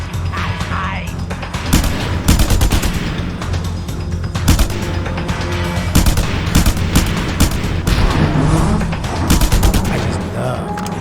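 Dense small arms fire in Just Cause 2, loud, near bursts of gunshots crackling almost continuously, with heavy booms and sharp pops peaking throughout and a deep rumbling bed beneath.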